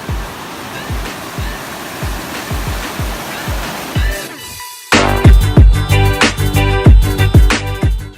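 Los Bronces waterfall in Chile roars with a steady, loud rush of falling water, growing suddenly heavier and closer partway through, with no talking.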